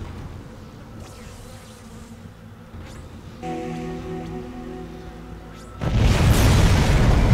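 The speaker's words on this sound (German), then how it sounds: "Was war das für eine komische Explosion?" A barricade blown apart by an explosion in the sci-fi horror game Dead Space: a low hum and buzzing build up, then a sudden loud, noisy blast bursts in near the end and stays dense.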